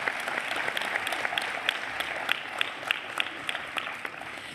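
Sustained applause from a seated audience at a university graduation ceremony, steady clapping with a few sharper individual claps standing out over the hall's crowd murmur.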